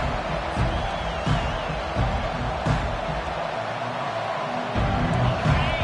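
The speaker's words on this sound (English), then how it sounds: "This crowd bringing an ear-splitting welcome to their visitors." A football stadium crowd cheers a visiting team with a broad, sustained roar that swells and dips slightly.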